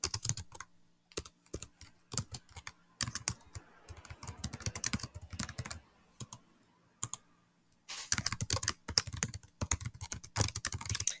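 Typing on a computer keyboard, rapid bursts of close, crisp key clicks broken by short silent pauses, with no voices.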